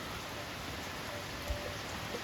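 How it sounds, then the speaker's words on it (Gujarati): Light, steady rain falls on a rural Gujarati farm, a faint, even patter with a few soft drop ticks and no voices. "એટલો માપે વરસાદ ચાલુ થઈ ગયો"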